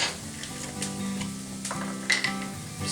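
Onions brown in a hot pan before lamb liver is added, giving a steady close sizzle with scraping stirs and a few small clacks from the utensil against the pan.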